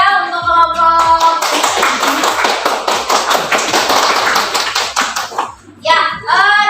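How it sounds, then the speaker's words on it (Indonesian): Group of children in a classroom claps for a presenting group, a dense burst of applause lasting several seconds before fading, with young voices chattering at the start and end. "Kita kasih aplaus ya untuk kelompok."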